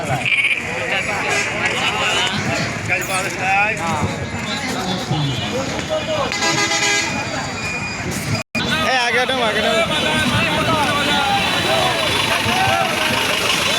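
Goats bleat repeatedly amid a busy livestock market crowd, with people talking nearby and an engine idling in the background.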